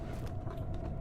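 A crank and pulley contraption in Amnesia: The Dark Descent gives off low, grinding mechanical creaks and rumbles, a steady dull churn with a faint whistling tone over it.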